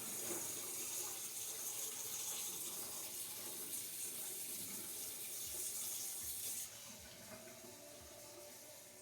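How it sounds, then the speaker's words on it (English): Warm tap water runs steadily from a kitchen faucet, a continuous bright hiss that holds loud for most of the stretch and then drops slightly as the flow changes. "it's kind of warm tap water."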